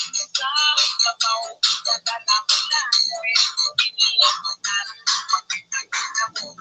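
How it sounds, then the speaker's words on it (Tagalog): A mobile phone ringtone plays a bright, repeating melody, fairly clear and steady, with no talking over it. "Di kunin mo na yung cellphone sa loob. Nag-ring."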